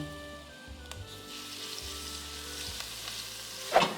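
Garlic sizzles softly in hot olive oil in a pan, a quiet steady crackle that flares briefly near the end as it is stirred.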